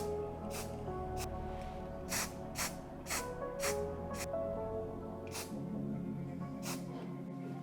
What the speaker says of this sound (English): I like to do like quick burst and just fully coat